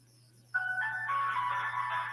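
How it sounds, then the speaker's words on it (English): A phone rings on an outgoing call, the ringback tone starting abruptly after a short quiet stretch and then holding as a steady electronic warble, clear and close. "This phone is ringing."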